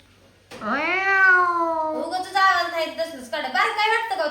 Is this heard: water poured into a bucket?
no